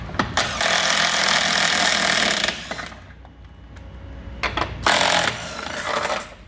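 An impact gun undoes the spare wheel carrier nuts on an Iveco: two loud, close rattling bursts, the first long and the second shorter, separated by a quieter pause.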